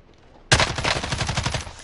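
Rapid automatic gunfire from a PS4 video game bursts in loudly at about half a second and continues as a steady, fast stream of shots to the end.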